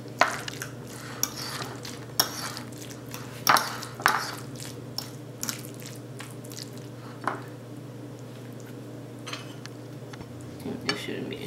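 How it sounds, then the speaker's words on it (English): A spoon stirs ground salt through a mashed avocado mixture in a bowl, giving soft, wet squishing scrapes with scattered light clinks against the dish over steady low background hum. "You stir and taste."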